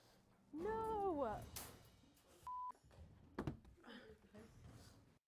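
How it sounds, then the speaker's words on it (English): A single short electronic censor beep, a steady mid-pitched tone lasting about a quarter second, cuts over a word in a lively exchange; several voices speak and react around it, including a warbling, sliding vocal sound. "we had to beep that out"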